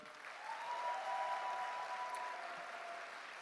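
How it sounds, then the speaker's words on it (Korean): An audience at a financial company's champion award ceremony gives a soft, steady round of applause, a smooth distant wash of clapping that swells slightly and holds, with a faint tone running through it. "박수 한번 부탁드립니다."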